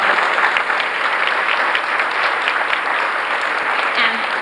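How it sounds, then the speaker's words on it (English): Steady applause from a room full of people at a 1992 kindergarten graduation, dense clapping throughout without pauses, fairly close and loud. "I think she deserves a round of applause."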